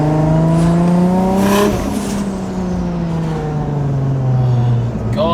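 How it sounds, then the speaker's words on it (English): 1JZ single-turbo conversion car under way, a loud close engine drone climbing then dropping after a gear change, with whooshing turbo spool and whistle over the steady cabin rumble. "Oh, a lot of good turbo noises now."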